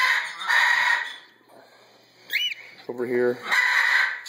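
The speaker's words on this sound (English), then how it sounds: "a very spoiled cockatiel, who's also not hungry" A baby cockatiel in a parrot brooder gives shrill, raspy calls in short bursts at the start and end, close and loud, with a person speaking briefly in between.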